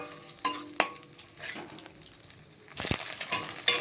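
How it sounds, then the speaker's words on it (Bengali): Beaten egg fries in hot oil in a wok, a low steady sizzle punctuated by sharp metal clinks and scrapes of a spatula against the pan. "আমি তেলের মধ্যে ডিমটা দিয়ে দিয়েছি দেখতে পাচ্ছ তো চলো এবার ভালোভাবে আমি ঝিরিঝিরি করে ভেজে নেবো"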